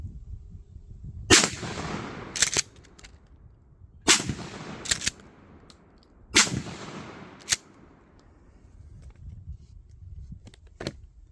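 A shotgun firing slugs at a small metal tank outdoors, heard as several loud, sharp blasts, some in quick pairs, each with a fading tail and quiet gaps between.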